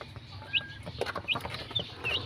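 Ten young chicks let out short, high peeps, scattered irregularly over a quiet, rustling background with no voices.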